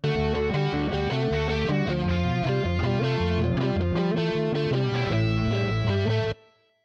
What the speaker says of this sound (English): the same guitar of the melody with a little bit more distortion